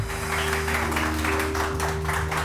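Studio audience applause on a morning TV show, rhythmic group clapping in pulses over a steady electrical hum, moderately loud and without talk.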